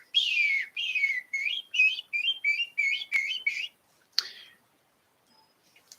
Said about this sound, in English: Just a few little bird calls.